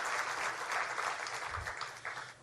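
An audience applauds a corporate chairman and CEO at a Carrier event in Indiana, producing a dense, continuous wash of clapping that stays fairly loud throughout and begins to taper near the end.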